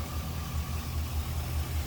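A 2004 Chevrolet SSR with a 5.3 liter Vortec V8 idles smoothly, a steady low rumble with gentle rhythmic pulsing, close by and without any voices.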